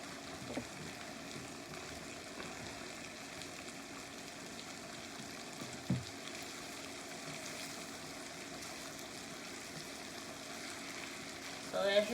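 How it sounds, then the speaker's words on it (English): Corn fries in a pan with a quiet, steady sizzle that runs throughout, broken by a couple of soft knocks and a louder stir at the close. "corn is cooking up really well"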